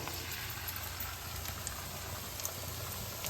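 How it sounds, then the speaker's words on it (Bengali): Ginger paste sizzling as it goes into onions frying in a pan for a whole garlic chicken curry, a steady close hiss and bubbling with no voices. "এবার এর মধ্যে আমি দিয়ে দেবো বেটে রাখা আদা।"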